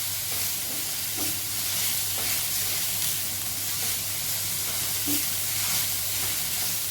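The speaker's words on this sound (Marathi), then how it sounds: "आपण फास्ट गॅसवर परततोय, एकसारखं मिक्स करायचं." Vegetable filling for momos is stir-fried on a high flame, with a loud, continuous hiss and sizzle that never lets up and occasional soft knocks of stirring. A low steady hum sits underneath, and there is no speech.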